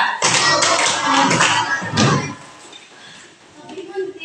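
Children chant a classroom clapping routine in unison, clapping in quick rhythmic bursts, the claps loud and close, then the chant trails off into quieter voices.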